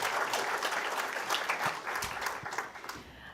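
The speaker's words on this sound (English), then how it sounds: "give him a clap" Audience in a room at a brain injury awareness event claps for a former footy player being introduced, a brisk burst of many hands with a few louder individual claps standing out.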